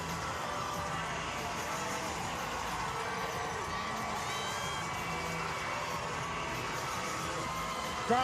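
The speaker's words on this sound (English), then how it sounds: "Crowd with an ovation for Ice Cube." A stadium crowd gives a sustained ovation as Ice Cube rolls onto the field during a Dodgers championship parade and rally, with dense cheering and whooping throughout and scattered voices within the roar.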